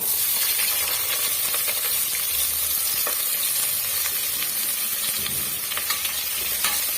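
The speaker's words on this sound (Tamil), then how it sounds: "ஒரு பெரிய சைஸ் வெங்காயம் நீட்ட வாக்கில் அரிஞ்சு வச்சிருக்கேன் அதையும் சேர்த்துக்கலாம்" Sliced onion and cashews sauté in oil for mint pulao, with a steady, close, hissing sizzle and occasional crackles and stirring scrapes throughout, no voices.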